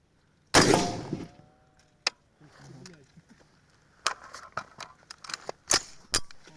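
A 7.62x51 NATO military rifle round is fired at a Hardox 500 armor plate, giving one loud, sharp crack followed by fainter clicks and handling knocks that come in scattered bursts.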